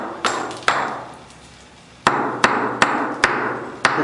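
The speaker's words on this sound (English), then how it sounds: "we're trying to create like little wormholes using the different points of the slag hammer" A slag hammer strikes a resin product to distress it, punching small wormhole marks, giving sharp, loud, ringing knocks: two early hits, a pause, then five more in a steady rhythm, close and alone.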